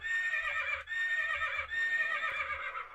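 A horse neigh alert sound plays in a live stream chat during a football watch party, a loud, clear whinny repeated in several bursts with faint hoof clip-clops beneath.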